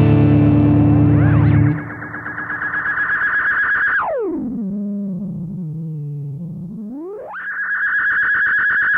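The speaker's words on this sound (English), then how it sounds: "we can have this continue almost indefinitely while I do some weird time warp noises with the expression pedal." Line 6 Helix delay pedal feedback on electric guitar, a loud sustained self-oscillating tone that sweeps down into a low warbling drone and back up as the expression pedal warps the time, with echo and distortion throughout.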